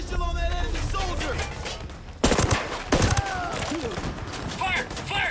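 Heavy gunfire in a firefight in the video game Ghost Recon Breakpoint, sustained bursts and loud shots over game sound, with voices shouting amid the shooting.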